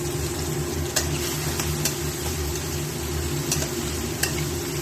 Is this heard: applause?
no